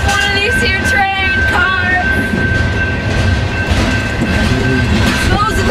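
A train rumbles past close by on the rails, steady clatter and screeching wheel squeals throughout.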